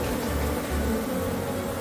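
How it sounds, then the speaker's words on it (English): Bees buzz in a hive built inside a water heater, a dense, steady, close drone with no break and no voices. "So many bees."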